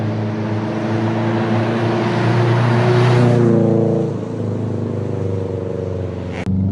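A 2.1-litre stroker Subaru Impreza WRX STI with 456 bhp accelerating hard, its engine note loud and rising steadily, then easing off briefly near the end before a sharp click.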